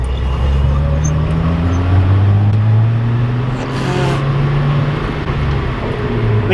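A Datsun 280Z engine rumbles steadily up close, its pitch rising and shifting as it revs and picks up speed, with constant road noise underneath.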